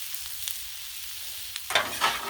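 Cabbage, kielbasa and potatoes with onion searing on a Blackstone griddle: a soft steady sizzle, then a couple of louder scraping stirs near the end, with no voices.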